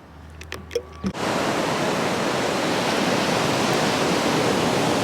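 Ocean surf breaks on a beach with wet sand. It starts after a second of small scattered noises, then becomes a loud, steady, unbroken roar close by.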